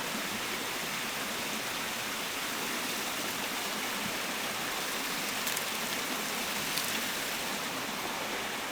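Steady rushing of a flowing mountain creek, a constant broadband wash of water close by with no talking.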